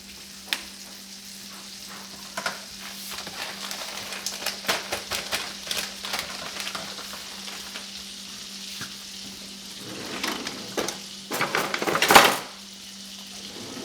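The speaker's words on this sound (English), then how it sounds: "while we got this butter melting" A stick of butter melting in a preheated pan for crawfish étouffée, crackling and sizzling close up with frequent clinks and scrapes of a utensil against the pan, a louder clatter near the end.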